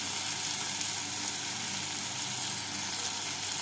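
Onion and tomato frying in a pan make a soft, even, continuous sizzle, close and unbroken, with no other sounds over it.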